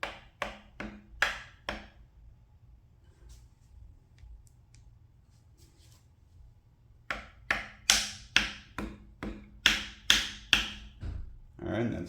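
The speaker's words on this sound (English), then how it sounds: "Rubber hammer." A rubber hammer taps an engine sprocket part during a forged VQ37VHR build, several sharp taps in quick runs with a quiet pause between the two groups.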